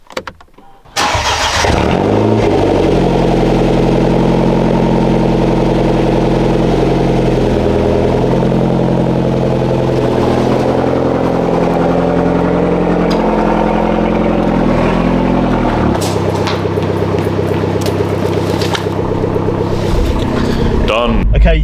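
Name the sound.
BMW 1 Series car engine while driving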